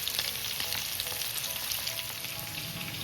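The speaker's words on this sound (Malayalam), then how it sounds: "ഇത് തിരിച്ച് മറിച്ച് വിട്ടണം, ഫ്രൈ ചെയ്തെടുക്കണം." Chicken pieces for kabsa fry in hot oil in a pan, giving a steady close sizzle and crackle with small pops throughout and no talk.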